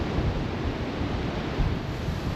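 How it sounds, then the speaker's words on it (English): Strong wind and rain buffeting a tarp and bivvi camp, a steady loud roar of gusting air with no pauses, close to the microphone and with no voices. "The wind is definitely picking up."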